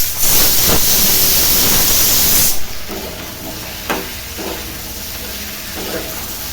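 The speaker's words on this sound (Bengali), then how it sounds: "আলুটা দিয়ে একটু ভাজা ভাজা করে নিই" Potatoes frying with okra in a hot pan, a loud steady sizzle and hiss that drops off sharply partway through, leaving a softer crackle with a few stirring scrapes.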